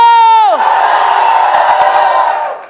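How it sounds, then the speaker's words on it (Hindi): A large crowd at a business coaching event roars loudly on cue, one sustained collective shout that starts high, drops into a broad rumbling yell, and then fades toward the end. "so on the count of 3 I want you to roar"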